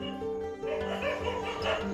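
Several dogs barking and yipping at a village Christmas gathering, a few quick barks at moderate distance over faint background noise.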